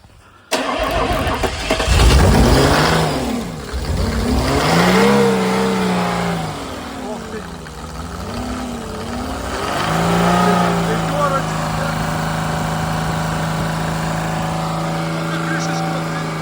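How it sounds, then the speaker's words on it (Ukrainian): A Mercedes OM606 diesel engine with an electronic injection pump, driving a Soviet PN-40 motor pump, cranks and catches, loudly revs up and down in swells, then settles into a steady, close idle drone. "гріємо свічки і запускаємо"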